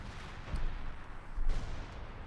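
Artillery fire in the Company of Heroes 2 video game: two muffled, distant booms land about a second apart over a low, quiet rumble.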